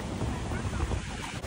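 Ocean surf washes in a continuous broad roar at a beach in Ghana, mixed with wind rumble on the microphone, loud and close throughout.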